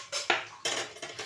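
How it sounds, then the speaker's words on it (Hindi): A spoon stirring sago kheer in a metal pot, giving three quick, close scraping and clinking strokes in a little over a second. "और इसको लगातार चलाते रहना है, चलाते रहना है, चलाते रहना है,"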